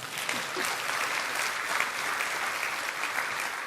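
An audience at a Korean entrepreneurship concert breaks into sustained applause, a broad, even roar of many hands clapping throughout, fairly close and unbroken.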